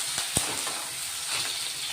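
Green chillies sizzle in hot garlic tempering, giving a steady, close frying hiss with a couple of faint clicks of stirring, no voices.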